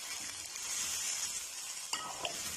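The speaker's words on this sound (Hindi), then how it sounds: "यहाँ 10 मिनट हो गए तकरीबन आलू को भूनते हुए, फ्राई करते हुए।" Potatoes fry in a pan for a mixed vegetable curry, giving a soft continuous sizzle with faint stirring scrapes and a couple of brief clinks near the end, no voices.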